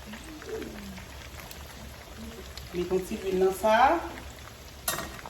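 Oil sizzles and crackles steadily as Haitian-style chicken fries, while a person talks over it.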